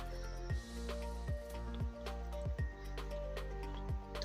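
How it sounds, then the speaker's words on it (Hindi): Homemade butter spooned into a simmering pot of lazy cake mixture gives soft, wet squelches and drips at a steady, unhurried pace, close but quiet over a low background hum. "तो अब यहाँ पे मैं मक्खन डाल रही हूँ।"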